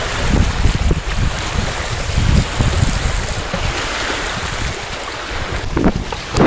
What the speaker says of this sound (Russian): Ветер никак не успокаивается